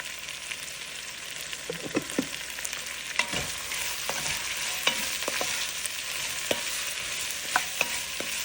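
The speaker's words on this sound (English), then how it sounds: "And saute it until it's soft and brown." Ingredients for a Kerala-style duck roast sauté in a pan, a steady close sizzle with intermittent scraping stirs and clicks of the spoon against the pan, no voices.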